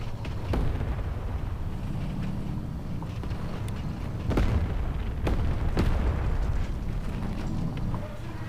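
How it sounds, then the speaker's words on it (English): KV-2 tank cannon firing in War Thunder Mobile, heavy booms rising out of a constant low engine rumble, several sharp impacts spaced unevenly across the stretch. "I'll just shoot anyway. Shouldn't be much of a problem with this cannon."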